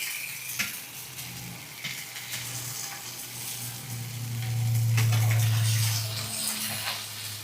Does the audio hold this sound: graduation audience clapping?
no